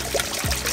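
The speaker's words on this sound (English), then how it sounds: "Oxygen booster just scattered across the surface of the pond." Oxygen booster treatment is scattered onto the surface of a koi pond, giving a brief, close splashing and trickling of liquid over water.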